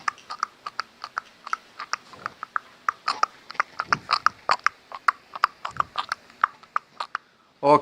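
A voice imitates a horse walking, producing a steady run of crisp clip-clop clicks at an even trotting rhythm, close and fairly loud, with no other sound around it.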